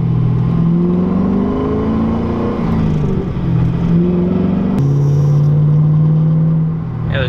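A Pontiac GTO with a 6.0 V8 accelerates, its deep engine note rumbling and rising through the gears, loud and close from inside the car, with a brief shift break before the drone continues.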